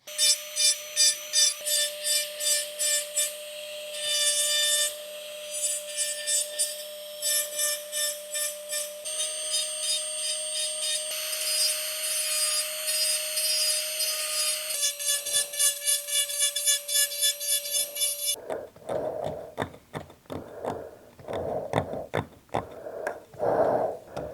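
A recess is carved in a chef knife handle with a rotary tool and ball burr. A high steady motor whine carries through repeated grinding and rubbing passes, and the clip ends in a burst of rapid scraping strokes.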